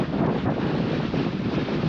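Wind blows steadily across a misty hilltop at Patla Betta, a constant close buffeting rush against the microphone with no other sound.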